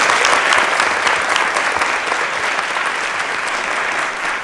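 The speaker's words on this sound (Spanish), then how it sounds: "Vamos a dar un aplauso a Martín Hernández y a Nicolás Becker por el audio." A packed festival audience at the FICM 2022 opening ceremony applauds sound designers Martín Hernández and Nicolás Becker, a loud, dense wash of clapping that holds steady throughout with no voices over it.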